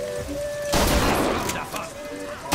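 A rapid burst of gunfire rings out at a fairground shooting gallery in the video game BioShock Infinite, several loud, close shots crowded together over about a second, with quieter game ambience before and after.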